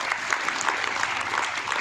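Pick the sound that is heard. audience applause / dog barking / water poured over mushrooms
audience applause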